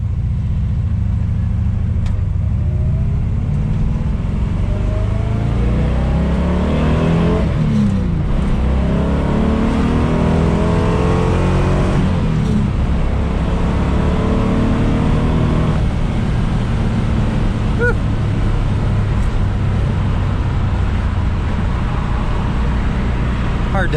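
A 1970 Dodge Challenger R/T engine rumbles loudly and steadily from inside the car while driving, with rising revs and shift breaks as gears change, mixed with road and cabin noise.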